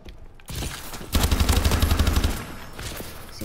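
A rapid burst of automatic gunfire from a new weapon in Call of Duty Advanced Warfare rattles out loudly for about a second, with quieter game sounds before and after.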